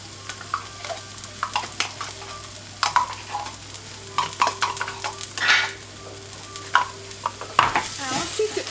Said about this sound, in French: Et je vais mélanger pour bien enrober chaque petit grain de riz.